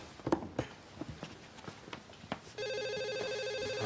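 A telephone in a police drama scene breaks into a loud, steady electronic ring partway through, continuing to the end. Before it, a few soft footsteps and light knocks can be heard.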